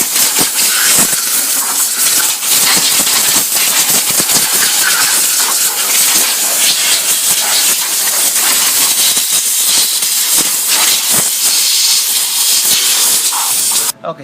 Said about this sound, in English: do a real good cleaning with compressed air on here, especially around the coils and the valve cover area